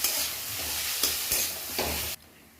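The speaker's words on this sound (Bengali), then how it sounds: "কুচিয়ে রাখা পেঁয়াজ এর মধ্যে দিয়েছি, তা লাল লাল করে ভেজে নেব" Close, steady sizzle of onion and tomato frying in a pan, broken by a few scraping stirs before it abruptly quiets.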